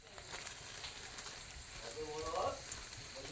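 Dried red chili and bay leaf frying in hot oil for a potato and bread dish, a steady crackling sizzle with brief stirring, while a voice speaks briefly partway through.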